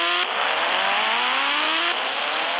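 A vehicle in the Indian Bike 3D driving game races downhill at full speed, a loud, sustained, rising engine whine with a sudden shift in tone partway through.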